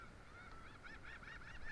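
Geese honk at a beach, a quick run of nasal, rising honks growing busier toward the end, fairly faint against a soft background hiss, no voices.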